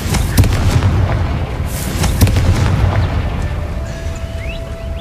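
A Confringo blasting spell explodes in the Hogwarts Legacy video game, a loud booming blast with crackling bursts that fills the whole clip, with no talking.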